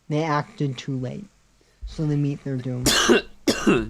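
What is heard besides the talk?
cough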